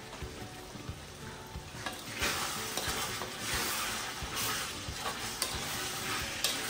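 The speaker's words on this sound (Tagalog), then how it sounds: "Iprituhin natin ang maigi to para mas maganda at mas malasa." Chicken pieces frying in a pan with oyster sauce added, a steady close sizzle with stirring scrapes and clatters throughout, no talking.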